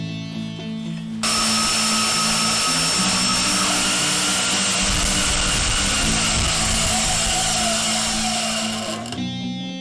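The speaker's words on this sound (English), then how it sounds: "Now I'm going to go cut the short ones." A power tool cuts short pieces for a jerry can holder, running loud and steady for about eight seconds before stopping.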